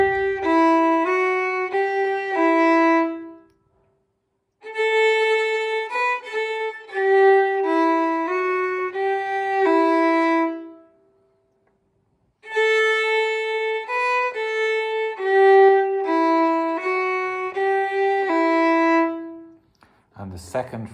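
First phrase of the Ballydesmond Polka plays as a clear melodic line in three sections separated by brief silences, with no voices over it.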